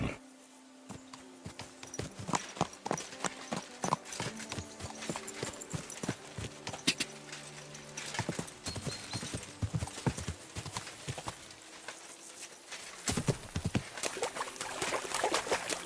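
Horse hooves clop in a quick trotting rhythm on a hard surface in the video game Kingdom Come: Deliverance II, close and clear, with a faint snort among the steady beats.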